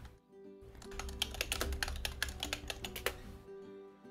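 Computer keyboard typing runs in a fast, dense burst of crisp keystrokes for about three seconds, close to the microphone, starting and stopping abruptly with no talking.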